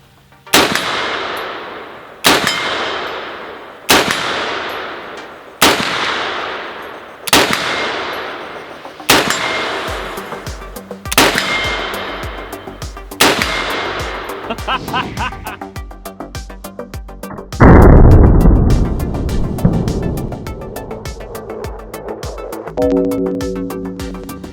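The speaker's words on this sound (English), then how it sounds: "This is Project Broadsword, 50 Beowulf. Let's put some rounds on target, see if we can tag it and abuse this thing some more." A .50 Beowulf rifle fires rounds at an AR500 steel target outdoors, with about ten loud shots spaced a second or two apart, each followed by a ringing metallic clang and a long decaying echo.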